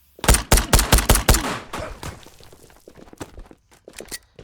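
An M9 Beretta pistol in the Ghosts of Tabor game fires six rapid, sharp shots in close succession, then quieter clatter and footsteps follow with a few faint distant reports.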